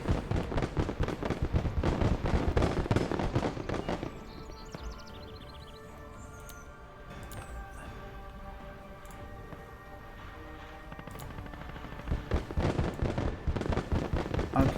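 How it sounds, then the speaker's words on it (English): Sharp booming reports from a tank gun in a Kelly's Heroes battle reenactment, a cluster of loud cracks, then a quieter stretch with faint background noise, then another burst of firing. "this is the tank shooting at our"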